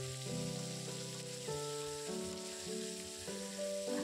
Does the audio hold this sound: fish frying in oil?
yes